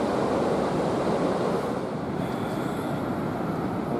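Baltic sea waves wash onto a Latvian shore at sunset, a steady, fairly quiet broadband rush with wind and no talking.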